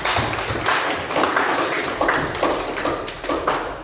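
Classroom applause from students at the end of a lesson, a steady run of overlapping hand claps with clustered bursts, fairly close and filling the room.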